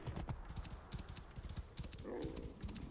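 Rhythmic clip-clop of horse hooves trotting in a video game, steady and fairly close, with a voice talking over part of it.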